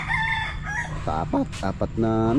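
Fighting roosters kept for cockfighting crow close by, with several strained, harmonic calls in quick succession. Someone speaks briefly at the start over background noise.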